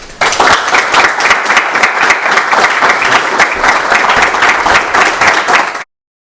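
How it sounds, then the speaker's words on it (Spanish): An audience at the launch event of a liberal association in Uruguay breaks into loud, close, sustained applause to welcome a speaker, dense clapping for nearly six seconds before stopping abruptly. "Lo recibimos con un aplauso."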